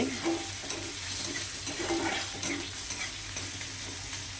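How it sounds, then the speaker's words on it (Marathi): Onion and vegetables stirred and frying in a pan on a gas stove, a steady close sizzle with repeated scraping stir strokes throughout. "ते चांगलं हलवून कांदा चांगला शिजू द्या."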